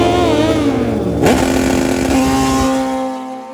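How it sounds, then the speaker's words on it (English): A Suzuki Hayabusa and a Kawasaki ZX-14 roar loudly at high revs in a quarter-mile drag race, with a sharp shift in pitch midway before the drone steadies and fades slightly at the end. "This is the modern Suzuki Hayabusa and Kawasaki CX-14, two performance flagship motorcycles."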